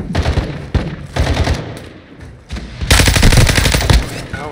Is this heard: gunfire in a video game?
yes